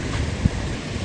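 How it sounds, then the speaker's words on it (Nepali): Water pours over a weir beside an Archimedes screw hydro turbine in Reading, a steady, dense rushing roar heard close up with no break. "पर ब्रिजको तलदेखि जुन पानी झरेको सानो झरना छ त्यो झरनालाई चाहिँ यहाँ क्याबर्सम वियर भनेको छ।"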